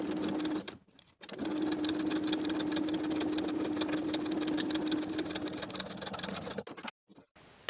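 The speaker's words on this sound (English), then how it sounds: "Sew the pinned edges for both pieces with a 1/2 inch seam allowance." A sewing machine runs steadily while stitching fabric seams with a half-inch seam allowance on summer dress pieces, a close, rapid mechanical whir with a pause near the start and a stop near the end.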